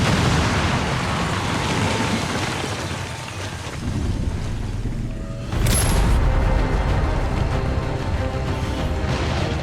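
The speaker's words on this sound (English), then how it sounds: "X4 charges detonated" X4 charges detonating in the video game XCOM 2, a deep rumbling blast with a sharp burst partway through followed by a sustained crackling, debris-laden roar at close range.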